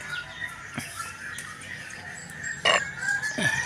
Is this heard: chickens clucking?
yes